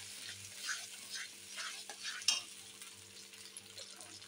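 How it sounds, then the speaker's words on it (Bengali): Tomato, ginger and green chili paste sautéing in a pan for chana masala, a soft, steady sizzle with occasional scraping stirs and one sharp clink, fairly quiet throughout. "এই যে টমেটো, আদা, কাঁচা লঙ্কা পেস্ট করেছি, এটা দিয়ে দিলাম। এবার এটা কষিয়ে নেব একটু।"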